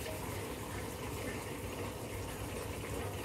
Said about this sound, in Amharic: ውሃ መጨመር ይጀምራል አውቶማቲክ ማለት ነው።